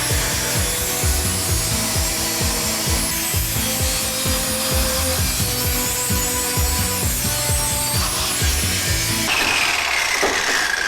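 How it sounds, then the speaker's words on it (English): Abrasive grinding on the steel body of a 1967 Ford F250 Camper Special truck, a loud, continuous rasping drone with rhythmic pulsing strokes, close by and without talk, easing off near the end. "I'm just going to keep grinding"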